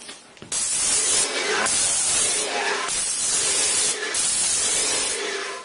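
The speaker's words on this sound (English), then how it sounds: "have a piece of cardboard handy, something that you can do a couple test sprays on" A paint sprayer fires test sprays onto a piece of cardboard, making a loud, close, continuous hiss with a few brief dips as the spray pulses.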